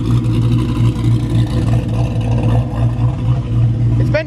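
A modified Chevrolet Camaro known as the Cowmaro sits idling loud and close, its V8 rumbling in a steady, throbbing pulse that holds for the whole stretch, with a brief rising whine near the end.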